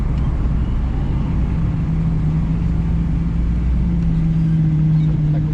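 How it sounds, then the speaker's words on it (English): A car's fresh low-mileage engine rumbles steadily with a low exhaust drone, loud and close, with no pauses throughout. "It's got all that good exhaust on it."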